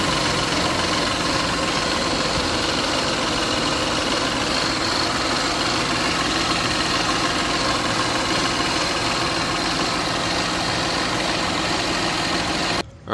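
Jaguar F-Pace 3.0-litre engine running, a close, steady, loud engine drone with a broad hum and faint vibration, unchanging until it cuts off abruptly at the very end.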